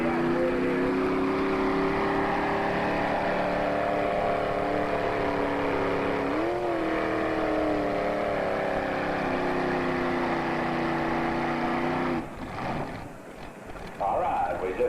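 A high-horsepower modified pulling tractor weighing 5,000 pounds at a 1987 Lucknow, Ontario tractor pull, its engine a loud steady drone with a brief surge near the middle, under a crowd and announcer's talk, dropping off near the end.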